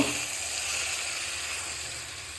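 Curry being stir-fried in a pan on a gas stove gives off a steady, close, bright sizzle and hiss that holds at an even level throughout.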